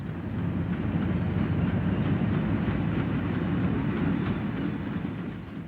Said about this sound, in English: The 2000 horsepower diesel hydraulic for express services to the southwest.